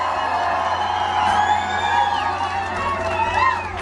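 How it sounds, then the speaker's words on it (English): Large outdoor protest crowd cheering and whooping at a night rally, a dense sustained roar with scattered shouts and whistles rising and falling. "Look at this crowd."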